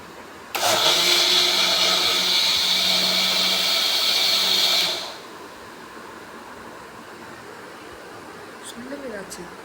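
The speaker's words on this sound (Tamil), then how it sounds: "அதுக்காக இந்த பிளெண்டரை எடுத்து இப்படி போட்டுட்டு" A new mixer grinder running as a blender while making a protein shake: a loud, steady whirring motor roar for about four seconds, then cutting out abruptly, followed by quieter background.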